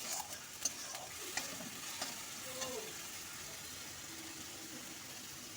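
Ginger-garlic paste sizzles and fries in a hot pan with onions while a spoon stirs and scrapes a few times, steady crackle underneath.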